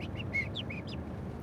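A man imitates a blackbird's whistling call with a short series of about five thin, rising and falling whistled notes, close and clear over a low background hum.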